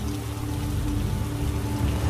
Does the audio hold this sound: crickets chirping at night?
no